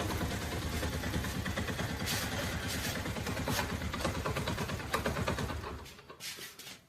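A running motorbike engine idles with a steady low rumble and vibration while gears are shifted using the clutch, the engine note wavering slightly before dropping away near the end.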